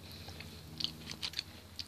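Someone chews crunchy peanut butter baklava from a Greek festival pastry stand, with a few faint, close, crisp crunches scattered over soft mouth sounds.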